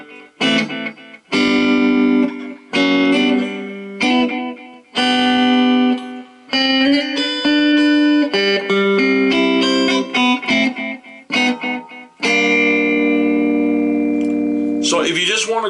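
Electric guitar played through a Roland Micro Cube amp with the echo effect turned up: bursts of strummed and picked chords with repeats trailing each phrase, loud and close, ending on a long ringing chord.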